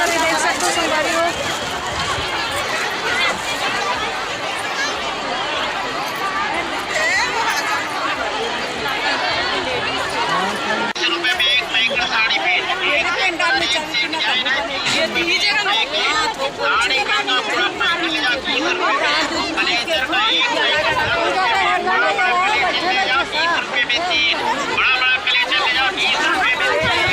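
A large crowd at a Shiv Mahapuran Katha gathering in Balod, a continuous loud babble of many voices with a nearby speaker talking over the din.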